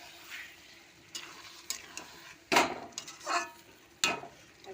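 Lote fish curry (Bombay duck) cooking in a pan, with soft sizzling under several sharp scraping stirs of a spatula against the pan, spaced irregularly and close.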